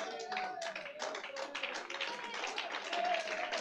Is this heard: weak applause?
yes